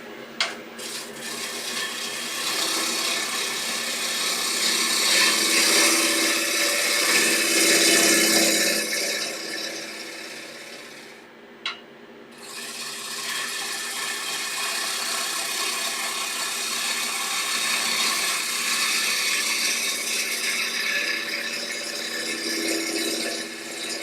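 A sharp chisel turning wood on a lathe and peeling off large shavings, a continuous rough scraping hiss over the motor's drone, pausing briefly midway before resuming steadily.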